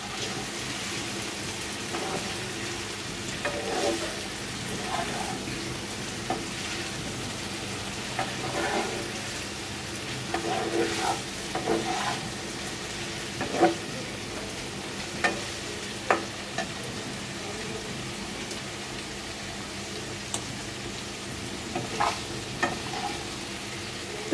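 A mixed vegetable bhaji of potato, pointed gourd, papaya and teasel gourd, with green chillies, sizzles in a pan as it is stirred, with a continuous frying hiss and scattered scraping clicks and taps from the spoon.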